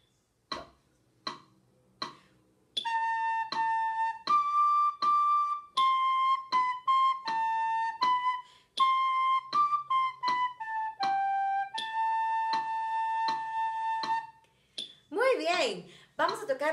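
Recorder playing the second staff of the Over War melody, opening with a few short tongued notes, then a run of clear, detached notes and held tones in a simple rhythm, close and solo, ending with a brief rustle.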